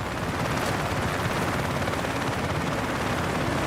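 Dense, continuous roar of combat in Battlefield 6 as helicopters are shot down, with rapid gunfire and rumbling blasts blending into one loud, unbroken wash of noise.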